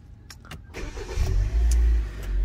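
A 2013 Hyundai Elantra, after a crankshaft sensor replacement for stalling and rough running, cranks briefly and catches into a steady, loud low engine rumble that settles toward idle, with no talking.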